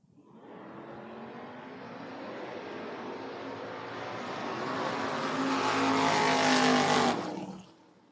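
Bracket drag race at a doors-car event, a Ford Mustang against a Plymouth: loud, sustained wide-open engine roar from launch to a swelling peak around the finish, then a sharp cutoff as the cars pass, with no talk.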